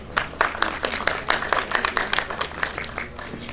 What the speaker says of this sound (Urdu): میں دعوت دوں گا آپ کی بھرپور تالیوں میں ڈاکٹر روش ندیم